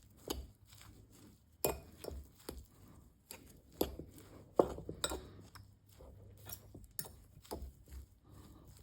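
A spoon works warm mashed breadfruit and butter together in a bowl for Caribbean-style breadfruit balls, giving scattered clinks, taps and scrapes against the dish in an uneven rhythm with quiet pauses between strokes.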